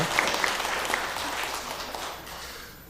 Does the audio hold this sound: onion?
no